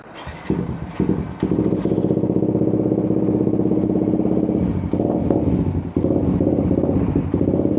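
A Suzuki GSX 150 motorcycle with an aftermarket exhaust on the stock ECU idles loudly up close, its exhaust sputtering and popping unevenly while the throttle is held open, with brief dips in the rumble.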